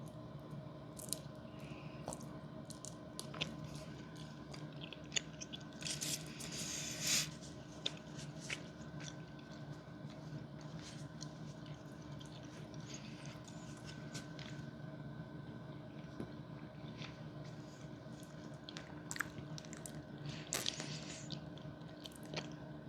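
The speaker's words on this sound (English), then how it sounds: "Let's go back for another bite. It does take a lot out of chewing though." Close, quiet chewing of a sticky strawberry sweet, slow wet squishing and smacking bites repeating over more than twenty seconds with no talking.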